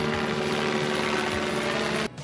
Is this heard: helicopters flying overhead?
yes